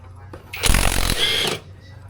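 A deep socket wrench with a 17mm socket works a CVT cover bolt loose on a Rusi RFI175 scooter, giving one loud, close burst of rapid mechanical ratcheting that stops after about a second.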